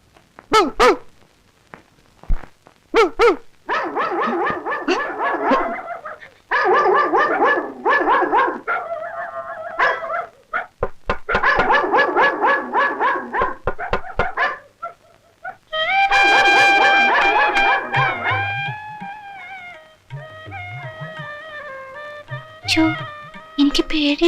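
A man imitating a dog with his voice, giving bursts of short barks and yips followed by longer whining, howl-like notes, loud and close, with pauses between the runs.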